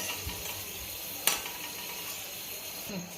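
Nuts fry in ghee for sheer khurma with a soft, steady sizzle, some light stirring, and one sharp clink of a utensil partway through, all close and fairly quiet.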